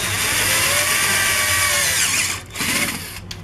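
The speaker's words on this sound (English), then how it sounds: "You drill through the first lip." Power drill boring through the lip of a replacement window frame, a loud, close, steady whine that drops off near the end, then picks up briefly in short bursts.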